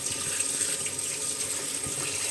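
Water poured off a pot of boiled pig's feet in a kitchen, a steady broadband splashing stream running continuously at moderate level with no talk.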